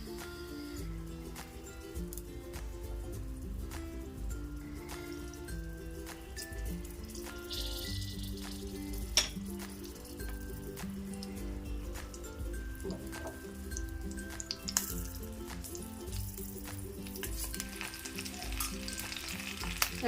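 Stuffed green chillies roast in a pan, giving a steady, close sizzle with crackles and small pops, continuous for the whole stretch and heard alone without talk.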